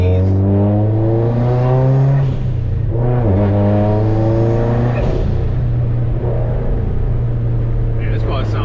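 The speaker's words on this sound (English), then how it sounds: "Man, this car sounds badass" A 2018 Subaru WRX STI's engine revs while driving, a strong rumbling drone that rises and falls in pitch through several throttle changes, loud and close.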